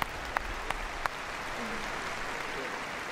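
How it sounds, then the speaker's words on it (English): Spectators at a Crufts gundog display in a large arena applaud, a distant broad wash of clapping, with a few sharp nearer claps early on. "Give everybody a round of applause."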